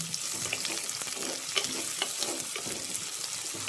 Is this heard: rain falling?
no